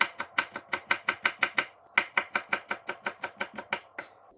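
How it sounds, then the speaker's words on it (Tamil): Garlic being crushed and then chopped on a board for a prawn fry, a steady run of about twenty crisp knife strikes in two quick bursts with a brief pause between, close and clear with no talking. "இப்போ பூண்டை இப்படி நசுக்கிட்டு இப்போ சின்னனா இப்படி சொப் பண்ணணும்"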